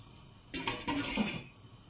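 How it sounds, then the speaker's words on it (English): Keto sweet and sour sauce with vinegar being stirred in a pan, a spoon scraping and clinking against the metal for about a second, close and moderately loud after a quiet start. "We're stirring it already"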